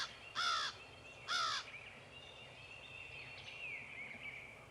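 A crow gives two loud, harsh caws in quick succession, then softer bird calls drift through the quiet woodland where a turkey hen nests.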